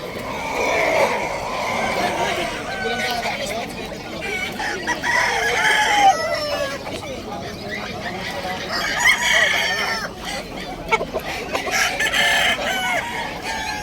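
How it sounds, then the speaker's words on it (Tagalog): Chickens at a pet market in Bulacan, with roosters crowing repeatedly and hens clucking throughout, a busy close chorus over steady market background noise. "Mga manok."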